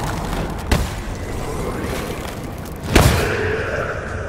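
Two booming explosions in the video game Lichdom: Battlemage, about two seconds apart, each with a short rumbling tail over a steady background of game noise.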